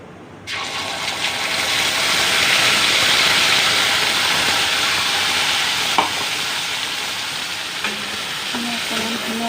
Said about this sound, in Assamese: অকণমান ধুনীয়াকৈ ভাজি ল'ব.